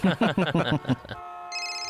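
A telephone starts ringing with a steady electronic tone right after a burst of speech, the ring continuing alone and fairly clear.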